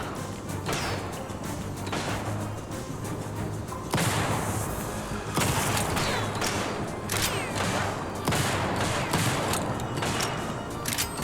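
Repeated shotgun blasts in the TimeSplitters Rewind video game, a steady barrage of booming shots and crashes throughout a level with only shotguns, loud and continuous with game effects layered underneath.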